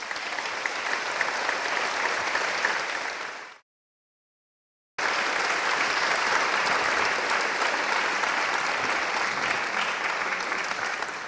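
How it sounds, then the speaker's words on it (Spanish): A seminar audience breaks into loud, sustained applause for everyone present, dense clapping that drops out briefly and then carries on just as strongly. "Entonces un aplauso para todos."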